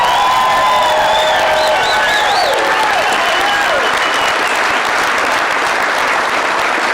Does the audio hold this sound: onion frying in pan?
no